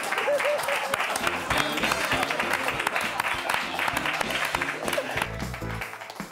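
Studio audience applauds twin guests on the Spanish TV talk show Toni Rovira y Tú, a dense, sustained clapping that fades near the end, with a voice and music underneath.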